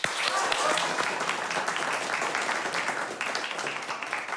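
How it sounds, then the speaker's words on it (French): Steady applause from a crowd, dense clapping filling the whole stretch with voices mixed in underneath. "Applaudissez."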